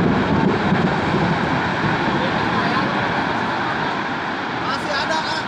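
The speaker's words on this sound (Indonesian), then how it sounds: "Angin puting beliung di Kahatek" Tornado whirlwind winds in Rancaekek roar as a loud, constant, buffeting rush that batters the microphone, with people's voices mixed into the din.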